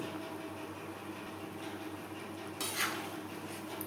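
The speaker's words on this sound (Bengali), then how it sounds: "এবার দিয়ে দেবো ভেজে রাখা মাছ ও মাছের মাথা" Fried fish pieces and a fish head going into a pan of vegetable fish curry: a brief close clatter and sizzling splash near the end, after a quiet stretch of low kitchen hum.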